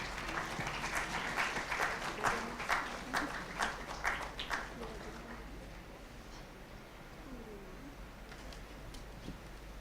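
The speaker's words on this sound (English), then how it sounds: "A big round of applause for ma'am." Audience applause at a memento presentation during a Youth 20 consultation at IIM Raipur, clapping strongest over the first half with individual claps audible, then fading to a softer tail under faint voices.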